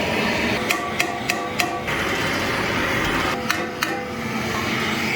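Sharp metallic hammer strikes ring out in two quick groups, four blows then three, over a loud steady background hum.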